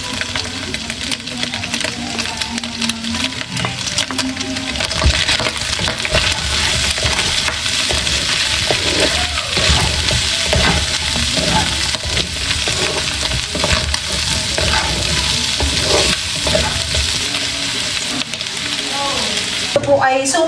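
Pork sizzles and fries steadily in a pan with garlic, bay leaf and onion for adobo, while stirring and scraping rattle through the cooking noise, which stays continuous and close.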